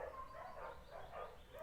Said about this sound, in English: My neighbor's dogs are being weird.